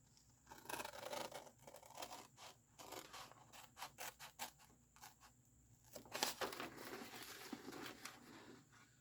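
Scissors trim the four corners off a paper envelope for a handmade greeting card: a run of quiet, close snips with paper rustling and crinkling between the cuts.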